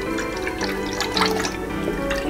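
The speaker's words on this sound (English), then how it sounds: "First, I need to add 50 milliliters of pomegranate juice." Pomegranate juice pours into a pan on a hob, a steady close trickling and splashing of liquid that continues unbroken for a couple of seconds with no voice over it.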